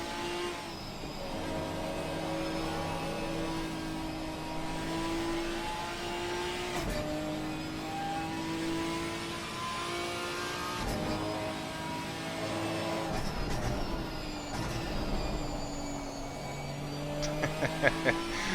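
A Ginetta GT4 race car engine drones steadily through a qualifying lap at Catalunya in a racing video game, with gear-change dips, rising and falling revs and faint talk underneath.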